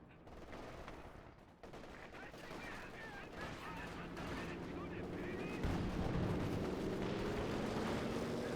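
Artillery barrage booms through a strategy war game, dense rumbling fire rolling continuously with sharper impacts and a rising, swelling roar over several seconds, with a voice talking faintly beneath.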